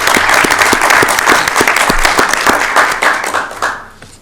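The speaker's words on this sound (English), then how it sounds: "Let's give our new members a round of applause." A room at a public library authority board meeting breaks into loud, dense clapping for new board members, sustained for several seconds before thinning out at the end.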